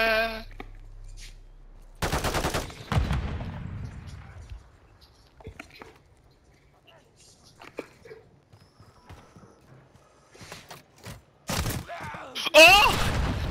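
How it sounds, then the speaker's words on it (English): Rapid bursts of gunfire in a shooter video game, loud clattering volleys at the start and again near the end, separated by quieter stretches of scattered game noise, with players' voices briefly mixed in. "Oh! I got shot!"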